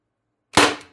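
A single sharp shot from an Umarex TR50 air rifle firing a 12.7mm steel ball bearing at plywood on 1100 psi HPA, a sudden loud crack after silence that decays quickly.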